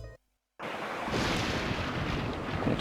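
Strong, stormy night wind of 45 to 50 knots roars in the helicopter rescue game Search and Rescue 4. After a brief cutout it becomes a steady, loud, broad rush that stays constant.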